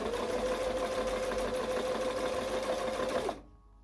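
A sewing machine stitching a bag lining runs steadily with a loud, continuous mechanical whir and rapid needle chatter, then stops abruptly near the end, leaving a faint hum.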